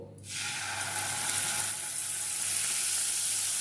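A paste of tomato, green chili and ginger hits hot oil, bursting into a loud, steady sizzle after a brief quiet start and continuing close up without pause.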